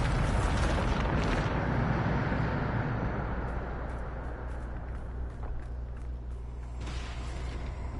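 A Bombarda blasting spell erupts in Hogwarts Legacy on PS5 with a loud, broad explosive roar up front, then a rumbling, crackling debris tail that stays dense and sustained across the whole stretch.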